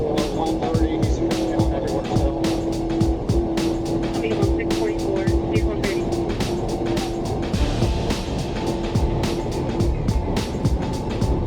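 A car with a flat or faulty tire, driven unsteadily during a police dashcam chase, roars continuously with a rapid, regular thumping running through the engine noise, while a voice talks over it.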